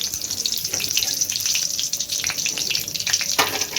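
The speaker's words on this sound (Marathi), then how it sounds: "आता आपण त्याच्यामध्ये तमालपत्र, दालचिनी आणि एक मसाला मिरची टाकतोय" Bay leaf, cinnamon stick and a chili dropped into well-heated oil give a steady, close sizzle with crackling bursts, while spluttering and faint stirring run through it.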